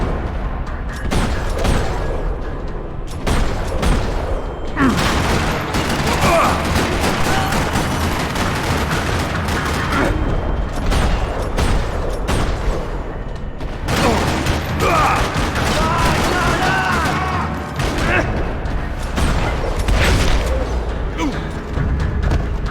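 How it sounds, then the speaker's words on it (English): Sustained gunfire and explosive bursts echo around a parking lot during a firefight in the video game Max Payne 3, loud and continuous with dense overlapping shots and booms. "Another parking lot rattling with gunfire."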